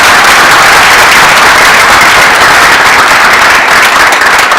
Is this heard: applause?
yes